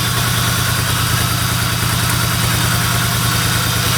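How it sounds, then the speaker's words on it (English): BMW 635csi straight-six engine idling roughly while firing on only three cylinders, a steady loud uneven throb with a pulsing low-end beat running continuously and close up. "It's running on 3 cylinders. It's not firing 2, 4, or 6 in the right sequence."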